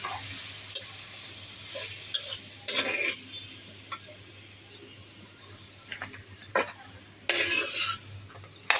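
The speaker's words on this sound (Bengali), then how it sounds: "আলুগুলো ভাজতেছি" Potatoes frying in a pan with intermittent scraping and clattering as they are stirred, plus a soft background sizzle between louder bursts; no talking.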